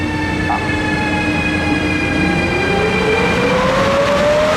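An intermodal KLV freight train pulls out of Brenner station with a piercing, sustained wheel squeal that rises in pitch, over steady rolling rumble close by.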